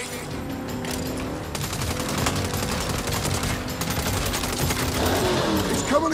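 Rapid automatic gunfire in a Saints Row shootout, a sustained fusillade of overlapping bursts that builds slightly louder over the clip, with chaotic crackling shots and no speech over it.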